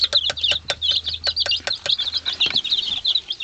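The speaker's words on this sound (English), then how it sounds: "They're all chirping all the time." Baby chicks chirp in quick, high, repeated peeps, close and clear, with a faint low background hum and no talk.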